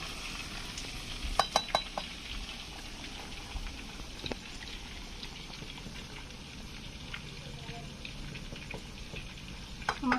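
Pieces of mirgal and palin fish fry crisp in oil in a pan over a wood-fired clay stove, with a quiet steady sizzle, broken by sharp scrapes and clicks as the pieces are turned.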